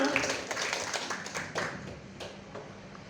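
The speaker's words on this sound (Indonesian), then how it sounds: "Tepuk tangan untuk kita semua." Moderately sized group clapping in a classroom or meeting setting, a short burst of uneven handclaps that fades over a few seconds, fairly quiet and somewhat distant.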